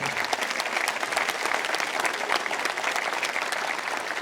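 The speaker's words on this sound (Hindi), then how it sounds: "पाकिस्तानियों के लिए ताली।" A crowd at a political rally in Pakistan breaks into sustained applause, dense steady clapping filling the whole stretch at a loud, even level with no talk over it.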